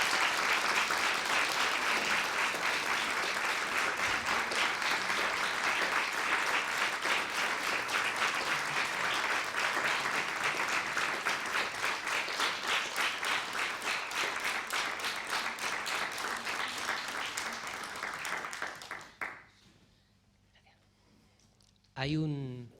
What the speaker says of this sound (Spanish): Les pediríamos un aplauso para ellas.